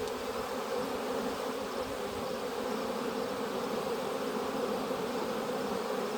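Honey bees swarm around an open hive box during a September inspection, a dense, steady, close buzzing drone that continues without a break.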